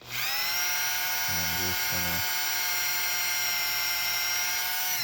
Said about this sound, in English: I'm going to use a very small drill bit.